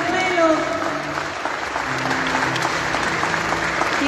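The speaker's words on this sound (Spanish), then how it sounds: "Fuerte el aplauso, fuerte, arriba nuestro pañuelo." A church congregation at a Catholic Easter vigil applauds steadily, dense clapping continuing throughout at moderate volume, with a voice speaking over it.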